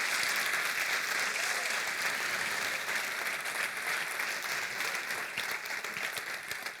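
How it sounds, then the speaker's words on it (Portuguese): A church audience applauds steadily, a dense, even wash of many hands clapping that holds at a constant level throughout. "dê para Jesus uma forte salva de palmas"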